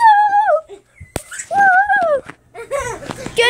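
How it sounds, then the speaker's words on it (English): A dog whimpers close by in high, wavering whines, three drawn-out cries separated by short gaps, with faint clicks and rustling between them. "And this is my doggy."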